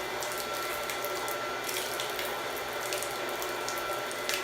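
Water runs steadily through a reverse osmosis purifier, a constant broadband hiss and flow with a faint pump hum beneath, unbroken and close throughout.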